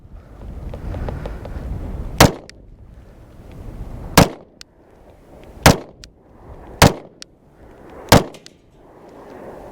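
Five loud, sharp 8mm Mauser rifle shots fired outdoors at a Lorcin 380 pistol target, spaced roughly two seconds apart, each crack followed by a short fading echo.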